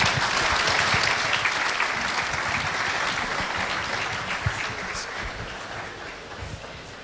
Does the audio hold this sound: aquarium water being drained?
no